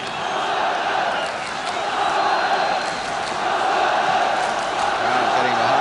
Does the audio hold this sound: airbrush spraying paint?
no